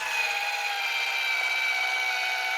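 A machine runs with a steady mechanical whir and high grinding hum, constant and moderately loud, with no voices.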